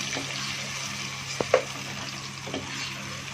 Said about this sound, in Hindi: ये देखिए चिकन को जो है हमने फ्राई कर लेना है